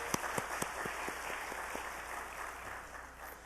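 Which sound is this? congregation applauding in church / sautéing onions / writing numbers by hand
congregation applauding in church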